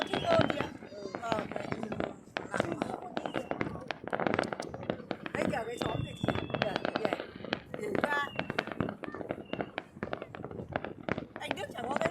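Village fireworks in Thach Son, Vietnam: dense, rapid crackling and popping bursts, continuous and fairly loud, with people talking and calling out among the explosions.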